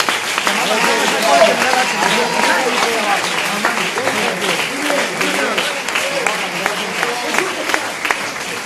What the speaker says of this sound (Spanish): Den un aplauso por favor al Señor